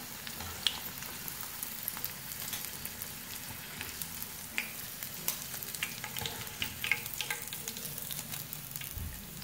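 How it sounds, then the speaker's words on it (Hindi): Chicken nuggets fry in hot oil with a steady, even sizzle and crackle that runs through the whole stretch, with scattered sharper pops, close and moderately loud, no voices. "बाकी भी चिकन नगेट्स हमारे फ्राई हो गए हैं"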